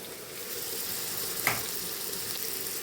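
Apples fry in a pan with an even, soft sizzle throughout, broken by one brief clatter midway.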